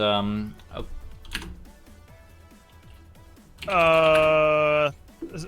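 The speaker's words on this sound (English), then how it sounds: "excuse the typing" Light keyboard taps patter close by during an Action Henk tournament stream, while a voice speaks at the start and stretches into a long drawn-out sound near the end.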